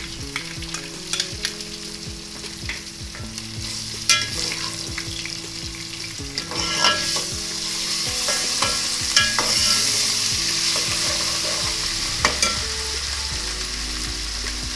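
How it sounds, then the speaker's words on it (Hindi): Ginger garlic paste hitting hot oil with light-browned onions in a pan: a loud, continuous sizzle with bursts of crackle and stirring scrapes, set over soft tonal background music. "अब इसमें अदरक लहसुन का पेस्ट जाएगा।"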